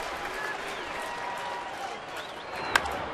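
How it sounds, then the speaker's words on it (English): Baseball stadium crowd during a Minnesota at Detroit game, a continuous wash of cheering and clapping with scattered whistles and one sharp clap near the end, with a voice talking over it. "Crowd starting to back him now, making a little noise"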